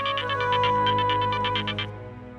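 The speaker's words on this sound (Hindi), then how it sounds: "महाराज जी का फोन।" A phone ringing, a fast electronic trilling ringtone in repeated bursts for about two seconds, then stopping, heard alone and fairly loud.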